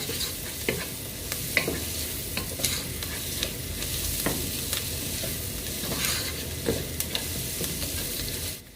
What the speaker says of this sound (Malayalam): നമ്മുടെ സവോളയൊക്കെ നന്നായിട്ട് വഴന്ന് വരുന്നുണ്ട്.